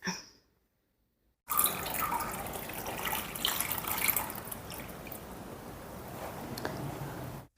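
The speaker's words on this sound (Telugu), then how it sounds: "ఈ క్యారెట్ జ్యూస్ని వేసుకుంటూ ఇలా కలుపుకోవాలి" Carrot juice being poured into a pan over a low flame for carrot halwa and stirred in, a steady wet, trickling liquid sound heard up close after a brief quiet start, with no talking.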